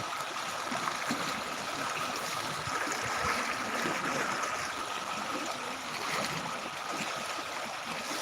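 Rain floodwater rushes in a steady, unbroken flow, a broad watery wash heard close and without pause, with no voices.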